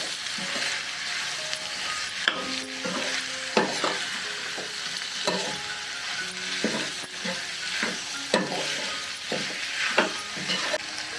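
Onion, tomato and soybean stirred through masala and frying over a low gas flame, with a steady soft sizzle broken by repeated scraping strokes of a spoon against the pan, no voices.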